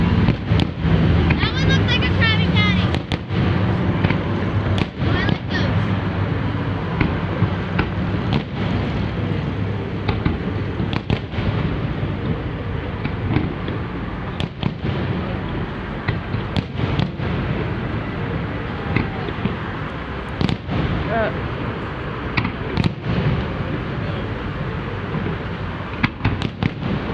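Fireworks bursting at a 2015 display, a steady run of sharp booms and crackles over a dense rumbling crowd-and-wind background, with people talking throughout.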